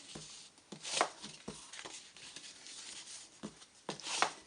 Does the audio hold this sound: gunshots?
no